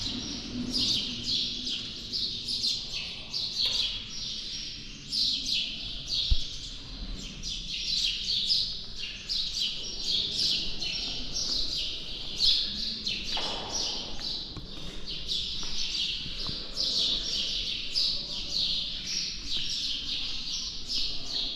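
Birds chirp and tweet steadily throughout, many small high calls overlapping in a continuous chorus over a low background hum, inside the ancient Egyptian Temple of Seti I.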